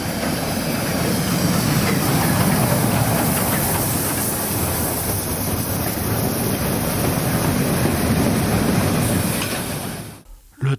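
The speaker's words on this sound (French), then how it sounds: "pendant qu'arrive un train en provenance de Wernigerode qui va à Brocken" A Harz steam train from Wernigerode to Brocken pulls into the station with a loud, dense, continuous rumble and hiss that lasts about ten seconds before cutting off abruptly.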